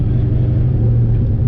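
Stock 4.8 truck launching down a drag strip, a loud steady engine roar with a strong low drone held throughout, close and without talk.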